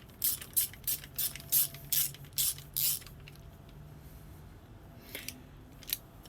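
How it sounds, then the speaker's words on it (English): A ratchet wrench tightens a banjo fitting on a motorcycle, clicking in a rapid run of about eight rhythmic bursts over three seconds, then a pause and two more isolated clicks, close and clear with no talking. "let me tighten up that banjo fitting"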